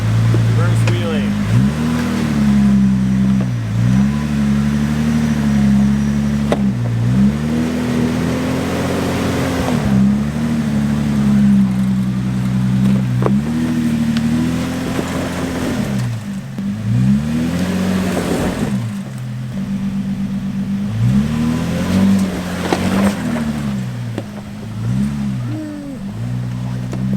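An off-road vehicle reversing on a rugged trail, its engine rising and falling in repeated loud revs and strains, close by, with people talking over it at points.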